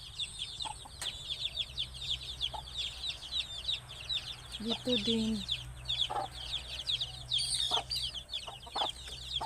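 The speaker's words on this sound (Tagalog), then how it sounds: "Yung mga manok natin na mga kulit-kulit." Backyard chickens cluck in a busy, repeated chatter at close range, with bird chirps scattered through and a steady low hum beneath; a person speaks briefly partway through.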